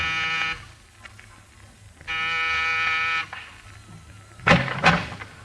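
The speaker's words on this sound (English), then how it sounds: "Pause. Press a buzzer." A door buzzer in an apartment building corridor gives two long, harsh electric buzzes a second or so apart, loud and steady, followed by a couple of knocking thuds.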